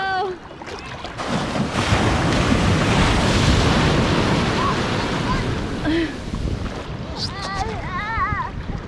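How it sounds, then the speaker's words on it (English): Ocean surf breaking on a Florida beach swells into a loud, rushing wash that peaks midway and then recedes, with wind buffeting the microphone and a family's voices chattering near the end. "Here come the waves!"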